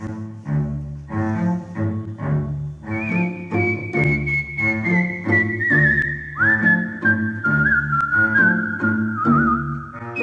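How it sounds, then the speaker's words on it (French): A performer whistles a melody into a microphone during a sound check, a clear sustained whistle that slides between notes over steady instrumental backing music. "On peut essayer avec le sifflet ?"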